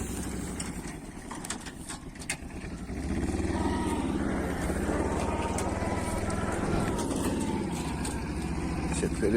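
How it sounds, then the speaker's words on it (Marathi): A goods vehicle's engine rumbles as it pulls in and reverses on a farm to load onions, growing louder and steadier partway through, while people talk nearby. "हा येऊ दे भाऊ इकडे येऊ दे इथं रिवर्स लाव."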